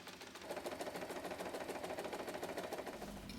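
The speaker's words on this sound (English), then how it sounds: "Now sew with 1/2 inch seam allowance. Backstitch at the start and end to lock those stitches in." A sewing machine runs steadily, stitching a half-inch seam on a reversible tote bag, its fast even needle rhythm continuous and close throughout, with no talking.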